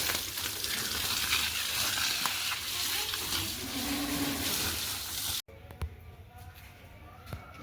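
Pressure-washer water spraying onto a tractor being washed after soaping, a steady loud broadband hiss that cuts off abruptly near the end, followed by quieter spray and scattered knocks.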